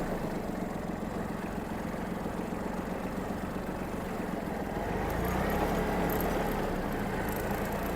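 A Yanmar AF-120 mini tractor's engine runs at full throttle on hand throttle, a steady droning rumble that swells louder and fuller partway through, heard close with no talking.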